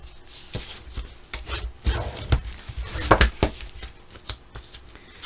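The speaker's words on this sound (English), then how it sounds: "And now that we've got the three, I'm going to burnish that." Folded paper hinges for a Valentine's Day cupid heart mini album are burnished by hand, making close, dry rubbing and scraping strokes in uneven bursts, with no talk.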